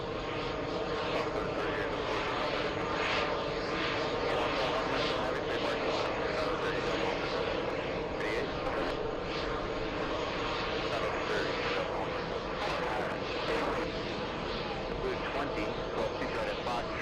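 A Delta Boeing 767-400 jet at Los Angeles airport gives off a continuous, steady engine roar that holds constant for the full stretch, with voices heard intermittently over it.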